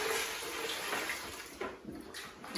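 Leftover paint pours out of a Wagner Control Pro 150 airless sprayer in a continuous liquid gush, close and fairly loud, tapering into a few splashy glugs near the end.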